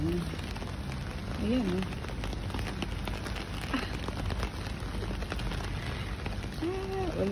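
Heavy rain pouring down outdoors by a guard post, a steady dense hiss throughout, with someone talking over it now and then.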